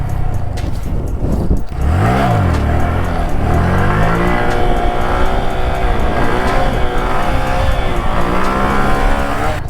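A motorcycle doing stunt riding in an empty street or parking lot revs hard, with a sharp rise and fall around the second mark, then holds steady, loud, close engine drone with pitch wavering under the throttle.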